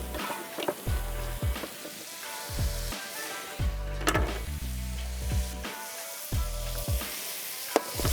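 Chicken and broccoli stir-fried with aromatics in hot oil, a steady close sizzle broken by repeated scraping and tossing strokes and a few sharp clanks of the pan, with no talking.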